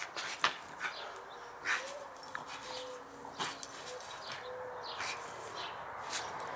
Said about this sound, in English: he just barks